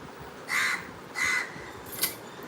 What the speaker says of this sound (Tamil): காக்கா கத்துது